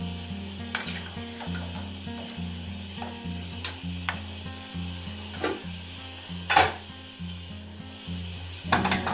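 Ginisang monggo, mung bean stew with pork ribs and squash, heating toward a boil in a pot, with soft sizzling and simmering under repeated low clinks and knocks of cookware, steady and close.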